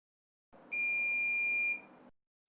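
A SmokeSight SS10MAMA wired and wireless smoke alarm gives a single piercing, steady electronic beep lasting about a second. It rises over a low hum and stands alone, with no talking.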